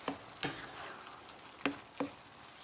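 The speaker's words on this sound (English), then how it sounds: "And I'm just going to let this sit and simmer." Asian lettuce wrap filling simmering in a pan on low heat, a faint steady sizzle broken by a few sharp ticks and pops, with no talking.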